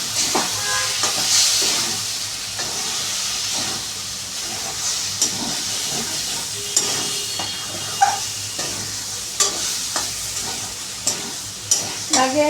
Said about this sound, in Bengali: আবার আমি এটাকে নাড়াচাড়া করে দেবো।